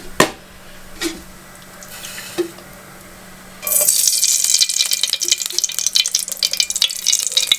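Oil heating in a hot pan on a stove for tamarind rasam: a few sharp taps and clicks, then a loud, crackling sizzle bursts in partway through and keeps spitting steadily to the end.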